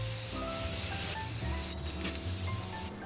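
A can of stone texture spray paint hisses in steady close bursts during a second coat on dollar store home decor, with two brief pauses in the spraying.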